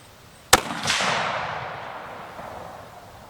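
A single Browning X-Bolt 6.8 Western rifle shot cracks sharply outdoors, loud and close, then echoes and fades over a few seconds.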